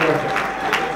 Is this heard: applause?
yes